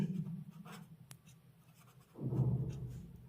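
Pen or chalk scratching while a statistics table is written out for a class 10 maths lesson, soft strokes at the start and a firmer burst of writing near the end, close and quiet.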